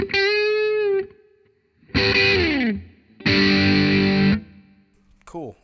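An electric guitar through a Kinsmen Ethos overdrive pedal plays several sustained, bending chords and double stops in bursts with short gaps, sounding gritty and full up close, ending with a brief scrape.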